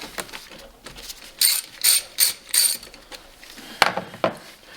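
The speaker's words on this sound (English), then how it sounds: "Just break it loose with the ratchet." Ratchet clicks in short bursts while loosening a spark plug on a Gen 4 Ski-Doo 850 snowmobile engine, using a swivel and extension, with several quick rasping pulls close by and a few sharper clicks at the end.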